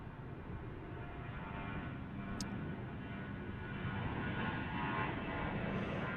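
Jet airliner departing DFW International Airport, a steady broadband engine roar that holds loud and even throughout, swelling slightly toward the end.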